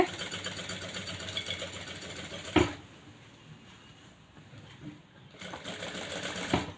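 A sewing machine stitching a hand-embroidery style design at a higher stitch setting whirs steadily up close, stops abruptly for a few seconds of near silence, then starts running again.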